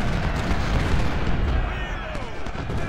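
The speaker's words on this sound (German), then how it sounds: "Weiter, die Kanone ballern." Heavy American Civil War cannon fire booms in Ultimate General: Civil War at the Battle of Antietam, a dense continuous rumble of blasts and explosions.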